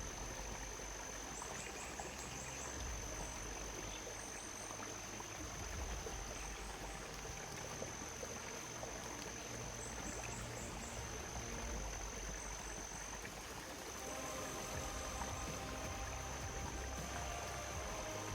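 A river flowing steadily through a forest, a continuous watery rush heard close and alone, with faint high insect or bird chirps in the background.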